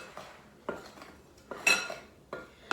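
A spoon folding dry ingredients into wet cake batter in a bowl, giving several distinct clinks and scrapes against the bowl in an uneven rhythm, close and fairly faint, with no talk.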